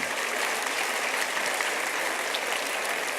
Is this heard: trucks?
no